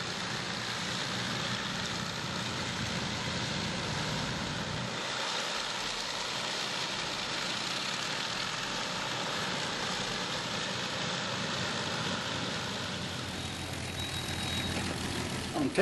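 Avro Lancaster bomber engines drone steadily throughout, a dense, continuous propeller roar that stays loud and even, with a voice talking faintly underneath.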